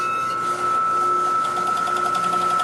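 An overlock sewing machine runs steadily, stitching a seam along a garment edge with a continuous whirring hum and a faint rhythmic ticking, fairly close and alone, with one brief dip early on.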